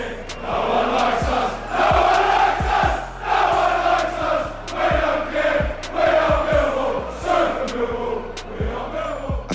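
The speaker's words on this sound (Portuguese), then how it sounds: "a música mais cantada entre os Bushwhackers era o lema dessa torcida: Ninguém gosta da gente e nós não ligamos, ou No one likes us and we don't care" A large crowd of football supporters chants "No one likes us, we don't care" in a loud, continuous rhythmic roar, with steady drum-like beats underneath.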